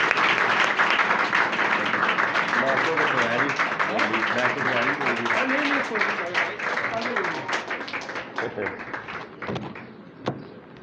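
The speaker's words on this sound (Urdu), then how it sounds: "آپ کی زوردار تالیوں میں" Strong sustained applause from a church congregation greeting a pastor, a dense wash of clapping that runs for several seconds and then thins and fades, with a voice speaking over it.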